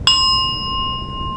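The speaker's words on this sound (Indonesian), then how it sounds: "saya ingatkan dengan lonceng ini" A meditation bell is struck once, giving a bright metallic strike followed by a clear ringing tone that sustains evenly at close range.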